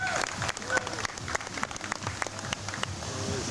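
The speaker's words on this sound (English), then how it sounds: "Big round of applause" An audience at a leather contest event applauds with scattered, sharp hand claps of varying density and moderate distance, with a background murmur of voices.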